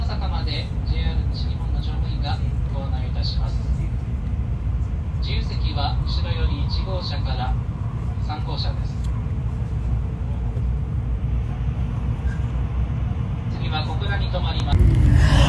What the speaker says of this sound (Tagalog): At umandar na ang ating sinakyan na bullet train.